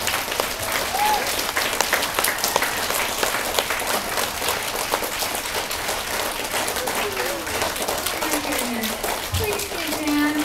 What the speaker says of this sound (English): Riley, a huge round of applause